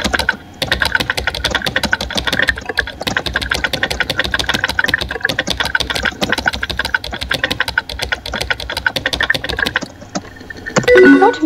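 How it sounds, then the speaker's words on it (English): Rapid keyboard typing in the video game Emily Is Away clatters steadily in quick bursts of key clicks, close and fairly loud, with a low engine-like hum beneath, ending in a brief pause. "Emily is typing."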